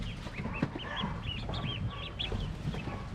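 Pekin ducks in a wooden cage of good lumber with a roof, giving a busy cluster of nasal quacks and calls from several birds close by, carried over a steady low farmyard rumble, with no talking.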